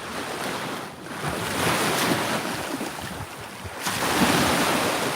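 Sea waves washing onto a quiet beach with steady roaring surf and wind noise on the microphone, a swell rising midway and again near the end, no voices.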